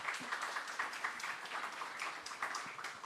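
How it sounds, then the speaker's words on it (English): A conference audience at a design event gives a round of applause: faint, distant-sounding clapping from many hands, steady and unbroken for the few seconds. "So first I would like to need a big round of applause to do so."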